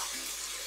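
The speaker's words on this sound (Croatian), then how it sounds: "dolit ćemo na njega 100 ml vode" Water is poured onto sautéed onion in a cooking pot for a wine goulash, a brief steady pouring splash that is fairly faint and continuous.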